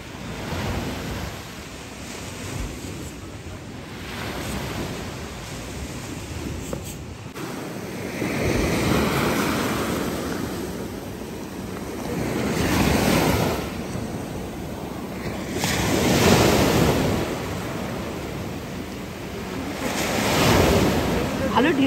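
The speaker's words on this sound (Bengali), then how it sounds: "ভালো ঢেউ আছে, কিন্তু কাল রাত্রে এত ঢেউ ছিল না।" Ocean surf breaks repeatedly on a shore, with loud broadband swells rising and falling every few seconds under steady wind rumble and microphone wind noise.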